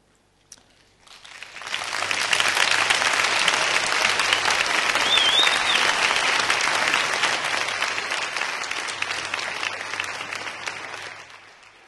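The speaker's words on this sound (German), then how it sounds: "Stimmt, da kann man auch klatschen." Sustained audience applause fills a lecture hall, swelling quickly to a dense, loud clapping that holds steady for several seconds before slowly thinning out.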